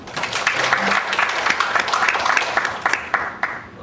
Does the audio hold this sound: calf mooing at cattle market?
no